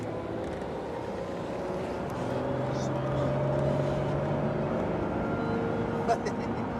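An Aston Martin engine builds up as the car accelerates, a steady low drone rising slightly in pitch and volume under a voice talking inside the cabin.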